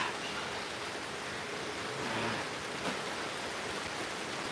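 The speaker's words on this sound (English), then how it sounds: "hear the rain, it's crazy loud right now" Heavy rain pours steadily and loudly outside during a cow hoof-trimming session, a constant dense hiss that lasts the whole stretch with no voices over it.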